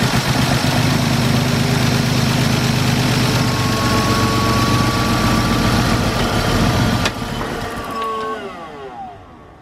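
A BMW E46 car engine, cranked with a jump pack, runs loud and steady with a rough low rumble, then cuts out near the end, its hum dropping and fading away.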